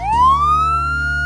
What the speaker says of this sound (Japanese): サイレン？ 警察？